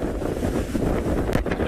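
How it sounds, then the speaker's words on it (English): Strong wind on an outdoor safari, gusts roaring and buffeting hard against the microphone in a dense, rumbling rush with no voices. "It's so windy, it's unbelievable."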